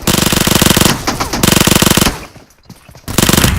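Automatic gunfire from an FPS video game rattles out in rapid, loud bursts, with a short pause after the first burst, a quieter lull, then another burst, all close and dominant with no talk.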